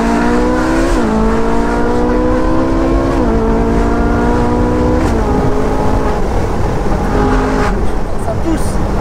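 Ferrari 458 Speciale with its naturally aspirated V8 and IPE F1 exhaust line pulling through the gears at low speed, a loud, rich engine tone rising in pitch with each stepped shift, heard from inside the cabin with a voice talking over it.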